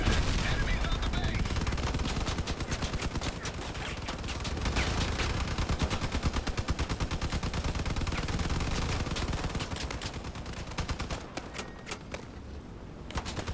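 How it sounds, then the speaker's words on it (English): Rapid sustained gunfire in the vehicle combat game Crossout, dense rattling bursts that barely pause, loud and close, thinning near the end. "Who is shooting me?"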